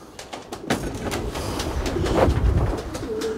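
Pigeons cooing close by in a loft, soft throaty coos repeating over a steady background hum of rustling and low noise, no talking.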